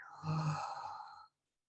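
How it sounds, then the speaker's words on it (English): A deep, breathy sigh-like exhale from a group, done together after a long inhale in a calm grief-support setting, lasting about a second before fading to silence. "take a big deep breath in together. And then exhale together"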